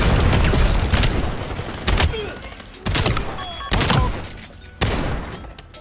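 Enemy grenade exploding in Call of Duty: Black Ops 7 gameplay, a series of loud booming blasts and thuds at irregular intervals over a rumbling gunfire-filled battlefield backdrop.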